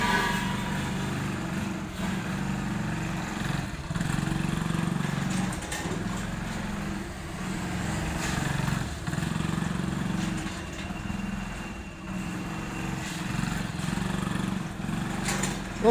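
TVS XL100 motorbike engine pulling a trailer, a steady, moderately distant light-engine drone with faint rhythmic pulsing throughout, no voices over it.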